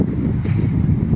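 Wind gusting over a boat at sea, a loud steady low rumble of buffeting against the microphone with no break through the short stretch.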